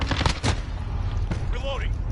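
Video game gunfire in a tactical team shooter, with bursts of rapid shots and a couple of sharp bangs over a dense, busy battle bed, plus a brief electronic sweep near the end.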